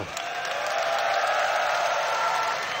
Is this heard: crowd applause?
yes